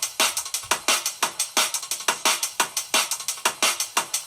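High-passed drum break layered in a drum-and-bass track, thin and bright with the low end removed, repeating crisp snare and hat hits in a quick steady rhythm.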